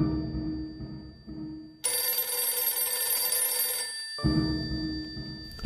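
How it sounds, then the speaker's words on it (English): A telephone bell rings loudly and steadily, a sustained bright ringing with no talk over it. "I think the phone is ringing."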